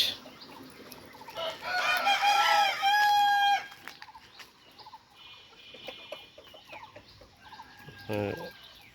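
Fighter roosters in a nearby shed crow loudly, one long crow near the start followed by fainter clucks and another crow burst near the end.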